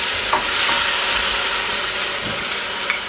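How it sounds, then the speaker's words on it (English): Tofu scrambled in a hot oiled pan, a steady broad sizzle with scraping stirring strokes and a few small taps from the utensil, close and loud with no talk. "So now I'm going to do the fun bit, which is the scrambling of the scrambled tofu pretending to be egg."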